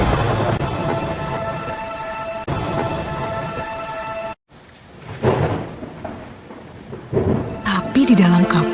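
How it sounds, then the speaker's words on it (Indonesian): Heavy downpour drumming steadily, broken by loud, rolling thunder cracks and rumbles, from a storm sound effect played during a children's Sunday school telling of Noah's flood. "Hujan turun sangat deras, sampai air menutupi ladang-ladang."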